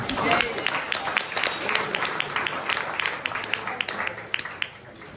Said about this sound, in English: can I have a round of applause for the heroes in the room?